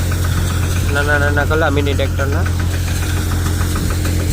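A New Holland 5510 tractor engine drives a 2025 Param thresher, giving a steady, loud mechanical drone and hum throughout while someone talks over it.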